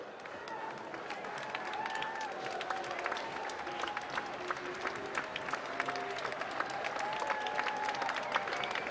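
A crowd at a polo match claps and cheers continuously from a distance, with scattered sharp claps and faint voices mixed into the steady applause.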